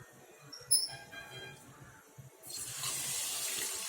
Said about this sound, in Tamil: சேர்த்துட்டு இதுல 2 கப் தண்ணி